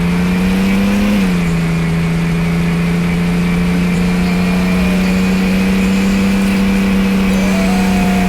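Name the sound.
car engine driving in Roblox Taxi Boss video game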